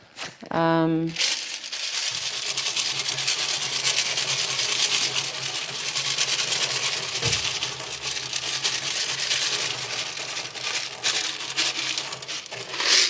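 Charcoal goes into a terrarium tank over a gravel drainage layer, giving a brief rattle at the start and then soft, near crinkling and rubbing, with a voice talking over it.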